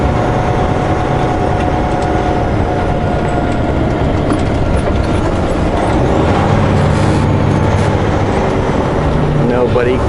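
A train rolls past close to a rural road beside a farm, a continuous rumble with rattling cars and faint clacking that holds steady throughout, heard from nearby.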